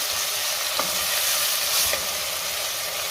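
Dal khichadi ingredients with fresh coriander being mixed in a pan, giving a steady broadband sizzle with a couple of soft spoon scrapes, close and even throughout.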